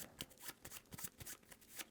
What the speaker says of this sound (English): We'll shuffle that back into the deck